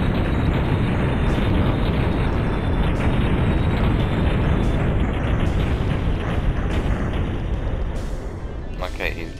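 Weapon fire and explosions from the video game Duke Nukem 3D 20th Anniversary World Tour, including Devastator fire, come as a loud, dense, continuous barrage of booms and blasts that thins slightly near the end.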